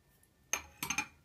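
A spoon clinks against the side of a container while yogurt starter is stirred into milk at home: one bright clink, then three quick ringing taps close together, close and otherwise quiet.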